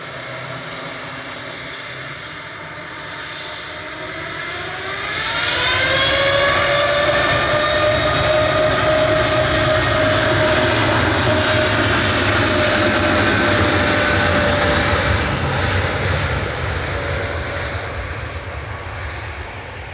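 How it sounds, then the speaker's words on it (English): Airliner departing Manchester Airport bound for Palma, a loud, steady jet roar that swells after a few seconds and holds with rising engine whine, heard from nearby without any talk. "The former Mr. Pat Moore, now named Melbourne, Florida, departing to Palma"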